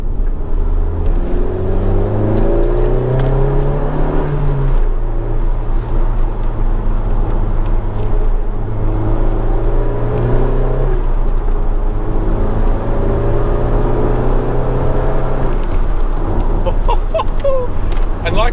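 A Honda Civic Type R driving on the road, its engine droning loudly with rising and falling tones as it accelerates and shifts, with road and wind noise throughout and someone talking over it.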